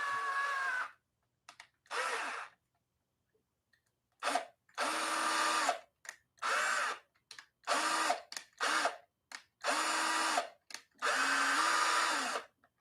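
A power drill whirs in repeated bursts, starting and stopping about eight times, each run lasting roughly a second, close and loud with pauses between.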